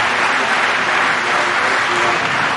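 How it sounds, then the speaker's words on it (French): A church congregation in Bergerac claps loudly and continuously in a dense, even roar of hands with no pauses. "Applaudissons notre Seigneur avec force."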